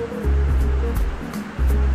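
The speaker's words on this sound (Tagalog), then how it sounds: "ang lakas ng ulan today kaya nasasama yung tunog ng ulan" Dense broadband hiss of heavy rainfall at SM Caloocan mall fills the clip, steady and close, with low rumbling surges underneath and no clear voices.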